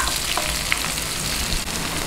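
Onion sautés in a hot pan for chicken-feet Bicol Express, giving a steady, close crackling sizzle with a couple of faint utensil ticks and no voices.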